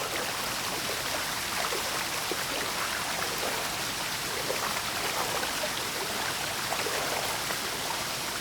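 Rushing water from a waterfall fills the scene with a steady, dense broadband roar that stays constant and fairly loud throughout, with no voices or other distinct sounds breaking through.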